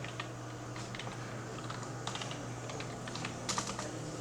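Steady run of computer keyboard typing while entering entries in Tally accounting software: quick, light key clicks with a few louder taps, close up over a faint constant hum, with no talking.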